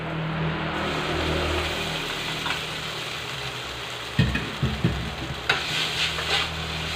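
Pancit canton noodles stir-fry in melted margarine in a pan, with a steady sizzle under a low hum and a few sharp scraping, tossing clatters near the end.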